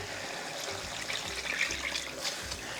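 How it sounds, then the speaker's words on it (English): Liquid dribbles and trickles unevenly from the pour spout of a Pyrex measuring cup into a pot while making bacon potato chowder, a steady soft wet splashing heard close up with no talking. "one of the huge problems with the Pyrex pour spout, is that it's not very accurate. It dribbles."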